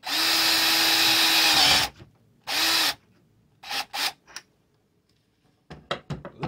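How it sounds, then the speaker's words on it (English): A power drill whines in two bursts, a long one then a short one, drilling PVC pipe, followed by scraping and light tapping of tool against plastic. "now I'm going to use this drill to put a hole in it."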